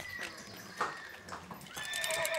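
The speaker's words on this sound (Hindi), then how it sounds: "यहाँ से घोड़े भाग के आएंगे सर" Horses gallop and neigh at a film shoot in Bhangarh, with repeated high whinnies over quick clip-clopping hooves that grow louder toward the end.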